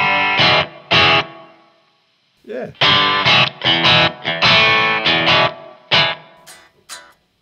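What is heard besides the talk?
guitar through ring modulator effect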